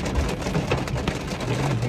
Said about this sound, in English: It's literally hailing right now.